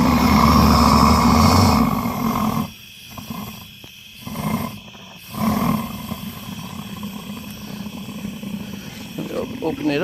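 Homemade backyard foundry furnace burner roaring with a steady loud rushing hiss, briefly dropping and surging back a few times, with a voice talking over it.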